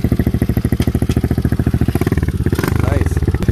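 A Pitster 125 pit bike engine runs loudly up close, with a steady rapid putter that rises slightly in pitch toward the end.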